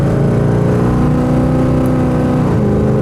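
A 1972 El Camino engine drones loud and close while driving down the road, with a steady tone whose pitch drops as it shifts gears near the end.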